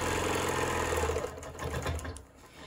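A sewing machine runs steadily while stitching alongside a quilting ruler placed a quarter inch from the seam, its motor hum and rapid needle rattle continuous and close, thinning slightly toward the end.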